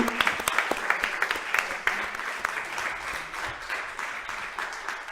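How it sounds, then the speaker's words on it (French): A French television audience applauds a pair of twin magicians, a burst of clapping with distinct sharp claps early on that gradually thins and softens over several seconds. "Un énorme applaudissement pour Chloé et Nico"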